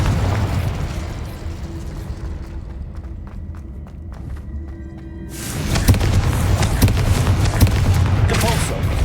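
Incendio and Confringo fire and explosion spells being cast in Hogwarts Legacy, with a roaring, crackling burst of flame followed by a loud, sustained rumbling blast, and a voice calling out over the effects.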